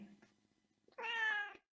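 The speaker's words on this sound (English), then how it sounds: "You've been meowing at me for." A cat meows once, a clear drawn-out call at close range, preceded by a few faint, soft noises in a quiet room.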